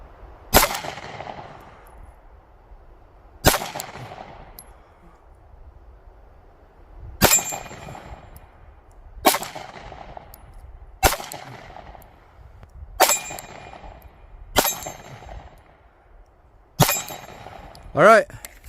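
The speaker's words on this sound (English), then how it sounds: "Let's go ahead and just throw a few rounds downrange" Several sharp gunshots fired downrange, seven or eight single cracks spaced a couple of seconds apart, each with a ringing tail, loud and close with no talk over them.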